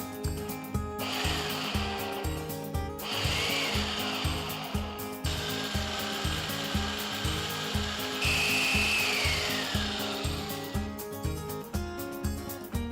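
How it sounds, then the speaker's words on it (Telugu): A mixer grinder coarsely grinding ginger chutney, whirring in several separate bursts, with a rhythmic thumping pulse running underneath throughout. "కాస్త బరక్కా అయ్యేట్టు రుబ్బుకోవాలి"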